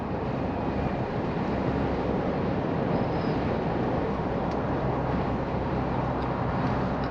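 Cabin noise inside a GWM Cannon Alpha 2.0T HEV ute cruising on a motorway at around 100 km/h: a steady, broadband rumble of road and wind noise, constant and unbroken, with no voices.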